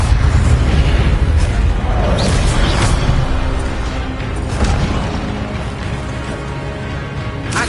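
Incendio fire spells blast in the video game Hogwarts Legacy, producing loud, repeated booming bursts and whooshing flares over a dense, rumbling battle din.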